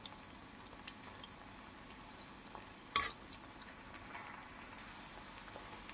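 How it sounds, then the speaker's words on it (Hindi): Snack pieces fry in hot oil with a soft, steady sizzle while being flipped, one sharp clink of a utensil midway and faint scattered taps, fairly quiet and close. "ऐसे पलटते हुए इनको फ्राई करेंगे।"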